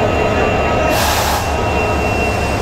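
A night train, the Turna Express on the Dhaka–Chattogram line, pulls into a station platform with a steady loud rumble and roar. A brief hiss or squeal rises in the middle, and there is no clear talk.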